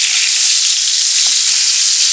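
Two eggs fry in a pan with a steady, loud, close hiss of sizzling fat, broken once by a brief soft clink, with no one speaking.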